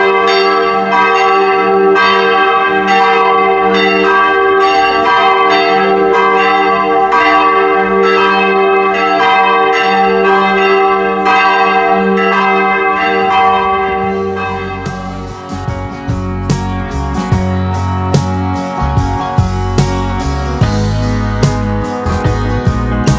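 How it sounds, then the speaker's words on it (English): A church bell at the 13th-century cathedral in Trogir rings in a steady, loud, reverberant peal with many overlapping strokes. Around midway the strokes thin out into a lingering, shimmering decay with no talk. "has a bell that is obviously in pretty good working order."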